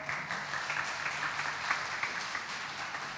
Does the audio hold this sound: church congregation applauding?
yes